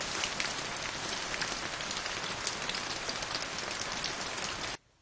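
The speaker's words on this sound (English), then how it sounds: "What? It's raining?" Rain falls steadily on a surface, a dense even patter of close drops that runs for several seconds and then cuts off abruptly.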